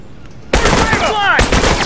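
Gunfire in the video game The Last of Us Remastered: two loud, close bursts of shots separated by a brief pause, with a whistling, rising tone between them and some background game noise.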